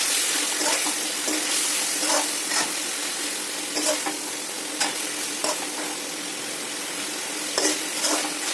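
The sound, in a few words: stirring cauliflower into curry in a pan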